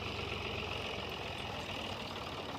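A steady, low rumbling tractor engine drones continuously at moderate volume, running nearby behind the listener in a wet field being prepared with a rotavator, with no voices.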